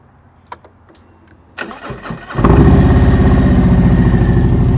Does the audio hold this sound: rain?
no